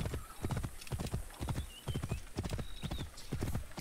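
Horse hooves galloping in the video game Assassin's Creed Origins, a fast, steady run of clip-clop beats rolling continuously at close range.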